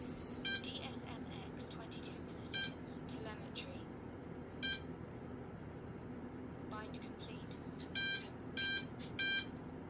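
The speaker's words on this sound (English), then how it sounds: "you hear that sound, that beep, that was the sound of the ESC initializing" Electronic speed controller on an Arrows RC Bigfoot monster truck powering up, giving several short, sharp high beeps spaced across the clip, ending in a quick cluster of three, over steady background hiss and low hum.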